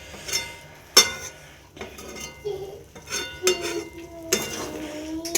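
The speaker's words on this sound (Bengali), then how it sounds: "তো আমি এবারে সিদ্ধ করে রাখা ছোলা আর আলুগুলো দিয়ে দেবো।" Boiled chickpeas and potatoes drop into a pot of curry for chola tarkari, with a sharp metallic clink, spoon knocks against the pot and a soft sizzle in between.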